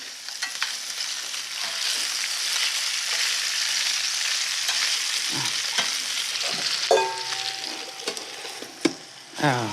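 Pork tenderloin with bay leaves cooks in a hot pan, giving a continuous, loud, close sizzle, with a few clanks and stirring knocks near the end.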